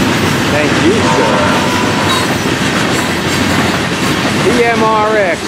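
An FEC freight train with four-bay hopper cars rolls past, a loud, continuous rumble of wheels with rhythmic clacking and occasional squeals, and a voice speaks over it.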